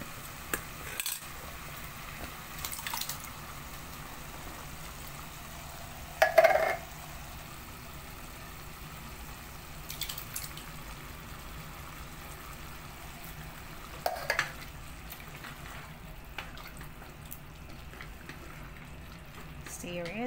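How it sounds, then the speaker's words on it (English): Lasagna sauce fries in a pan under a steady soft sizzle, with occasional faint spoon clinks and scraping from stirring. "Stir it and mix it."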